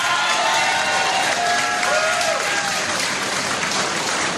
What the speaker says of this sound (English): And Tommy Sheridan, give him a big round of applause as well